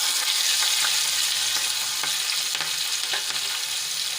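Steady, loud sizzling of mustard seeds popping in hot oil for tempering, with scattered small pops and crackles throughout.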